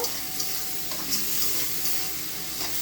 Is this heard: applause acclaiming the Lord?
no